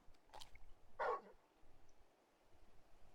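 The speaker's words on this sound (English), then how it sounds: "You're just a big puppy, aren't you?" Torgal, a very large hound in a video game, gives a couple of quick barks near the middle, fairly close but not loud, over a quiet low background hum.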